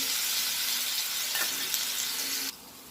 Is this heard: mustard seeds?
yes